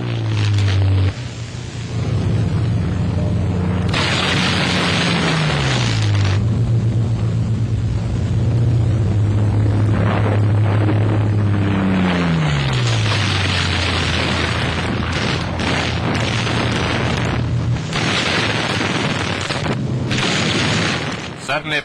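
Practice attack on old vehicles at an RAF bombing range, with Mustang fighters firing incendiaries and armor-piercing cannon shells: loud, sustained rumbling blasts and engine roar, with pitch sweeping as planes pass, overlaid by narration.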